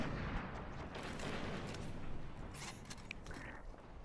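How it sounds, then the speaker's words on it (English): Sniper rifle fire against a boss in the video game Destiny, Devils Lair strike: heavy booming gunshots and explosions in a dense, loud, continuous game soundscape with a few sharp cracks. "stand up here and use your sniper rifle until you're out of ammo, just to get some damage on him"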